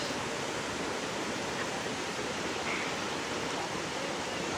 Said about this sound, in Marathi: लाटा खूप जोरात चालू आहे. बघू शकता.